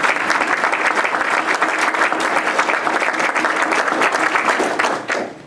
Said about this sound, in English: give that event a round of applause.